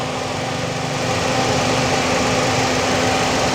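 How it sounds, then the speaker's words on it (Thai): A 2010 Toyota Yaris 1.5G engine idles with a steady low hum, constant drone and faint mechanical whine, close and unchanging throughout, without knocking. "เครื่องยนต์นิ่งๆ นะครับเงียบๆไม่มีเสียงกอกแกกดัง"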